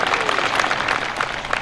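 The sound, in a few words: audience applause for the deputy regent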